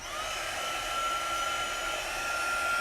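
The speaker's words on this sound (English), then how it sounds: "remember to aim your heat tool, whether it's a hairdryer or your heat gun, away from your transfer" A hair dryer, used as a heat tool to dry a chalk paste transfer in a craft project, blows with a steady close whir throughout, with no talking over it.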